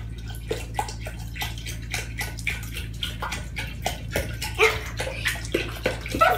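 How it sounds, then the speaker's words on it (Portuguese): Water from an aquarium filter is poured into a home fish tank, splashing steadily up close in a stream of repeated watery bursts over a constant low hum. "eu tô botando água do filtro"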